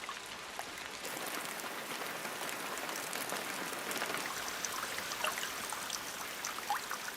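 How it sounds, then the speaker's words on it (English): Steady rain falls across the Amazon rainforest during the rainy season, a dense, even hiss of countless drops with soft patters on leaves, continuous and unbroken with no voices. "Precipitation falls incessantly throughout what is now the Amazonian rain season"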